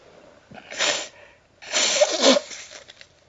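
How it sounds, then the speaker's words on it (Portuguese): A man sneezes twice during a lecture in Portuguese, two sharp close bursts of breath about a second apart, loud and alone without talk. "talvez esta aula tenha algumas interrupções para espirros, tosses, etc."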